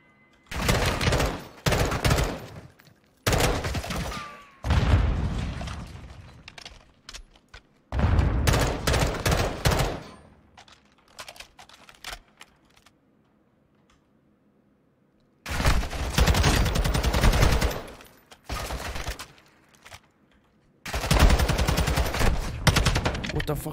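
Gunfire in Call of Duty: Modern Warfare 2's campaign comes in loud, dense bursts of automatic fire and rapid shots, separated by short quiet gaps, with some talk in between.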